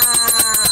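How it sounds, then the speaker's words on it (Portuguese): A small bell rings rapidly and brightly at close range, with several quick strikes blending into a continuous metallic jingle. "Eu toco o meu sininho."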